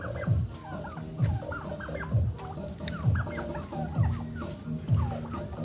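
Turkeys gobble and cluck in a steady series of rough calls, about one a second, fairly close by, with no one talking.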